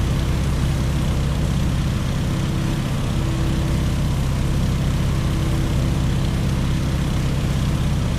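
Steady, dense drone of a Stearman open-cockpit biplane's radial engine and propeller in the Microsoft Flight game, loud and constant throughout with no talk.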